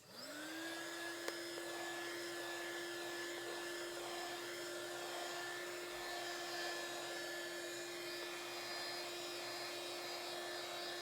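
A hot air tool heats the plastic case of a WGP 103A DC mini UPS, giving a steady, loud whining blower hiss with a constant tone that runs unbroken throughout, no voices.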